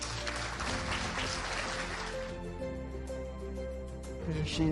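A gathered audience at a celebratory health-organisation evening gives itself a round of applause, steady dense clapping that runs throughout and tapers slightly while low background music plays underneath.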